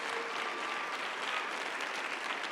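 Church congregation at a Sunday service claps in sustained, even applause, a dense wash of many hands heard from a distance at moderate level, with no talking over it.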